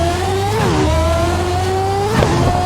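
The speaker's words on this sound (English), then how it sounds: "heel and toe downshift to match the revs" 1991 Fondmetal Formula 1 car in the Assetto Corsa racing game, its engine screaming loud and continuous as it drops through gears on a heel-and-toe downshift, revs dipping and blipping up again.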